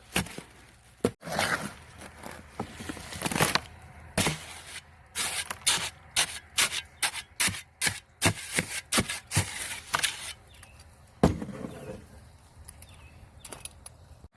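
Concrete mix is worked by hand in a wheelbarrow for setting a flagpole, giving a run of close, irregular scraping and chopping strokes, roughly one or two per second, with no voices over them.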